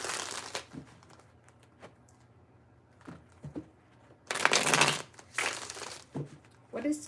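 Tarot cards being shuffled by hand, a soft papery riffling and crinkling that comes in a few separate bursts with quiet pauses between them, close by, with no talking.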